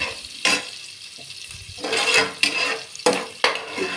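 Green chillies and onion frying in oil for a methi leaf and field bean pulao, a steady sizzle broken by several sharp bursts of stirring and scraping against the pan.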